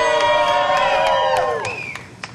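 A morning crowd at an outdoor Groundhog Day event cheering and whooping, many overlapping voices and scattered claps that swell loudly and then fade away.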